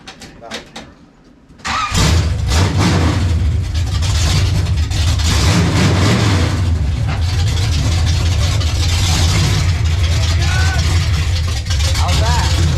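A G-body car's engine cranks, then catches and runs loud and steady with revving surges, close by. Voices talk over the running engine.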